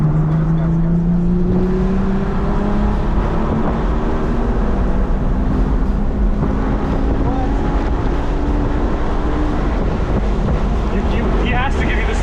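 A BMW car accelerating on a race track: a loud engine drone climbs steadily in pitch through several gear pulls, heavily buffeted by wind noise on the microphone.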